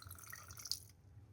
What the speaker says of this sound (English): you're going to pour 2 ounces of your gin